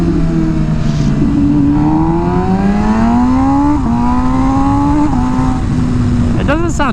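MV Agusta Rush motorcycle engine revving hard and over-revved at low speed, rising and falling pitch sweeping up and down for several seconds, steady and close, with a sharp blip near the end.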